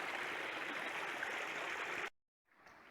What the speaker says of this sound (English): So the trail crosses a little creek lots of times